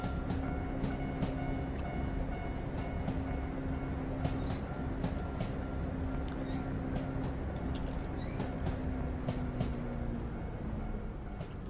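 A video-game train rolls slowly into a station platform with a steady low mechanical hum. Faint clicks and clatters repeat over it at an even moderate level, with no voices.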